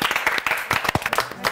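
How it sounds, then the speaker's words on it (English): Brief scattered clapping from a small group during a live-streamed Big Chef quiz game, quick uneven claps mixed with background chatter. "A round of applause."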